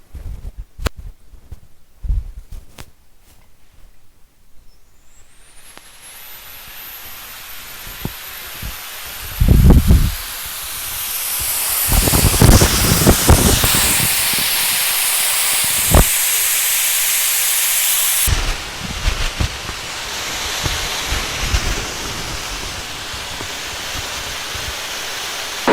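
Liquid nitrogen pours into a cryostat to cool it ahead of a helium fill, a steady loud hiss and rushing spray that builds after a few quiet seconds with scattered clanks, then continues more evenly, with no talking.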